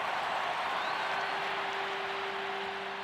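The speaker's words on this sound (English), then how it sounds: "their applause thunderous." Thunderous applause from a vast crowd of 110,000 spectators in a stadium, a dense, even roar of clapping and cheering that holds steady throughout.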